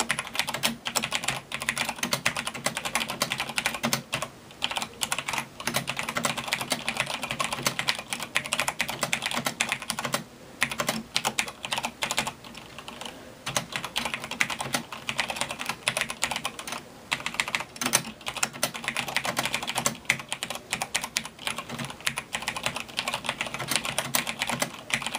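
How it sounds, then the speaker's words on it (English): An old computer keyboard typed on steadily up close, a dense, continuous stream of crisp key clacks lasting the whole stretch with no talking. "I'm just going to type a quick little sentence."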